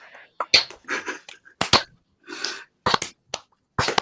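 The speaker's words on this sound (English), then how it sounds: "Slow clap." A slow clap made by hand during a livestream: four or five sharp, separate claps spaced roughly a second apart, with people talking in between.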